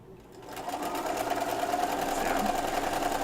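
Sewing machine stitching quilt blocks, a steady continuous motor whir that builds up over the first half second and then holds even and close throughout.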